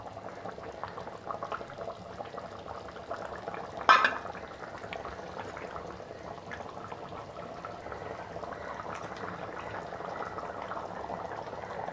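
An egg potato guruma bubbles in a pot over a slow fire, giving a continuous close, even bubbling and simmering with one brief clink of metal partway through.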